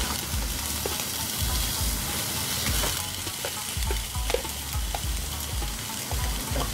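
Jingisukan lamb, partly frozen and a bit freezer-burned, frying in a pan with a continuous crackling sizzle and occasional stirring clinks, close and steady, no talk.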